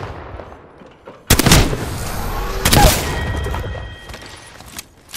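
Heavy gunshots in the battle royale shooter Apex Legends, two loud, booming close blasts a little over a second apart, each followed by ringing echo, with a softer thump near the end.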